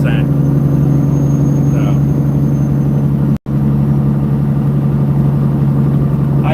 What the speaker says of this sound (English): I love the way your truck sounds